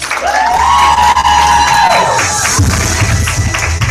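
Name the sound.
audience applause and cheering at meeting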